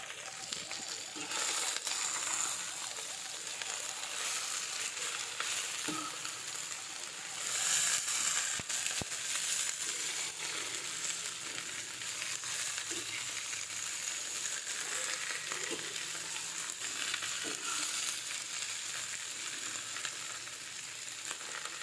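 Sweet potato leaves sizzle steadily in a hot pan for adobong talbos kamote, with occasional scraping and clinking as they are stirred; the frying hiss is close and continuous throughout.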